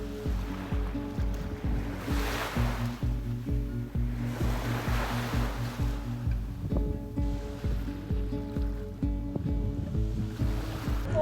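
Ocean waves at Koh Phangan swell and wash in a slow, repeating rhythm close by, with a low steady rumble underneath and no voices.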